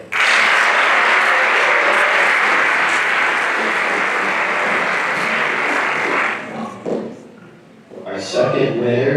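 Sustained audience applause at a 2024 senior awards ceremony, loud and steady for about six seconds before fading into scattered claps and murmurs, with a brief swell near the end.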